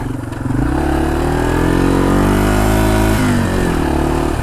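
Yamaha TW200 small motorcycle riding off-road, a loud close engine droning steadily with pitch rising and falling as the throttle changes.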